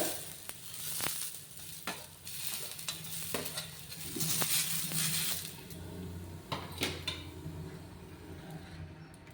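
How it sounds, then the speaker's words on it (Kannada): Green chillies frying and being stirred in a hot pan, a steady sizzle with scraping and clinking of a utensil against the metal, close and fairly loud with no voices. "ಇದಕ್ಕೆ ಇವಾಗ ಹಸಿಮೆಣಸಿನ್ಕಾಯಿ ಹುರ್ಕೊಳ್ಳೋಣ"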